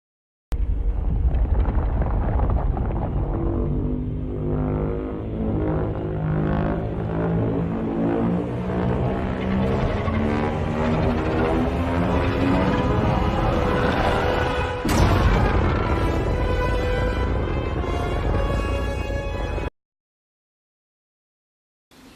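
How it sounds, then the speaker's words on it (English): Godzilla's charging-up sound from a film: a long, building roar of rising, layered rumbling tones that grows for about fifteen seconds, then a sharp burst with crackling decay before it cuts to silence. "The sound he makes when he's charging up his shot."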